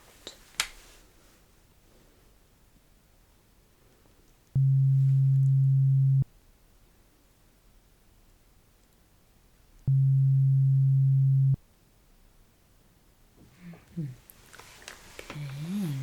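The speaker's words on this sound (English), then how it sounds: "the second beep sound." Two steady low beep tones from an ASMR hearing test, each lasting under two seconds with a pause between, set against quiet background with soft whispered speech and small clicks near the end.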